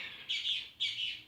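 A small bird chirps nearby outdoors, three bright, shrill chirp bursts in quick succession against quiet surroundings.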